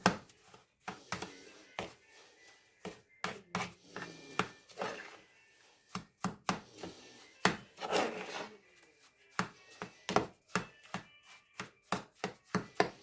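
A spoon cuts repeatedly into a snow ice cream mixture, giving a steady run of close, crisp scraping and chopping strokes with short pauses between them. No one speaks.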